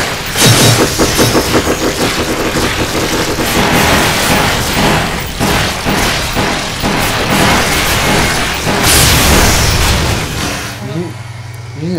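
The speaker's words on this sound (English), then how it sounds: "Grenade, grenade." Grenade blasts and gunfire in the Resident Evil Umbrella Chronicles video game, with booming bursts and rapid shots packed densely over several seconds while players talk excitedly over the action.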